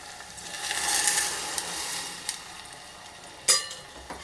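Curd stirred into a hot pan while making Andhra-style majjiga charu, a soft steady sizzle and stirring close by, swelling in the first half with a sharper clink of the utensil near the end.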